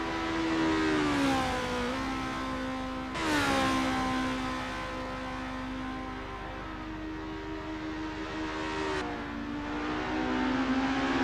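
Racing car engine in the Assetto Corsa video game, a Formula championship race at Kyalami, revving high and steady, with pitch sweeps as it shifts gears and a second engine note layered underneath, loud and continuous with no talk.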